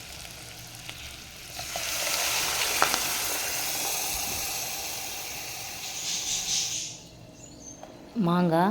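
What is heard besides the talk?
tamarind fish curry liquid poured onto frying curry leaves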